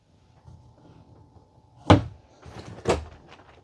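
An overhead cabinet door with a shock-assist strut in a 2025 East To West Alta 2600KRB travel trailer opens with a soft thud and a second bump, close and moderately loud over faint room noise.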